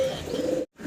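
A pair of yellow Helmet pigeons gives a single soft, droning coo, close and brief, then cuts off abruptly.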